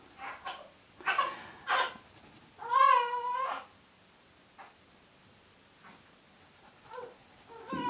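Baby fussing in her sleep, a few soft whimpers and one drawn-out wavering cry, faint and intermittent against a quiet room.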